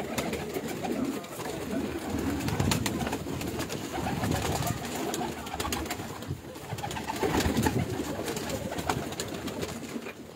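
Teddy pigeons coo softly on a rooftop, a gentle, repeated low cooing from several birds set against faint background noise and occasional flutters.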